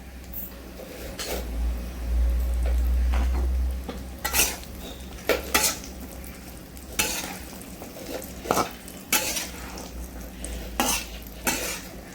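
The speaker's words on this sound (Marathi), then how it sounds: "आता आपण त्याच तुपामध्ये काजू टाकून घेणार आहोत काजू पण तेलामध्ये चांगले फ्राय करून घ्यायचे आहेत" Cashews fry in ghee in a pan while a spoon stirs them, giving a soft steady sizzle broken by repeated sharp scrapes and clinks of metal, a low rumble early on, no voices.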